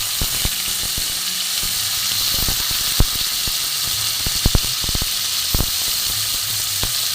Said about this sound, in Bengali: ফোড়নটা গরম হয়ে গেছে, এতে আমি টমেটো কুচি দিয়ে দেবো।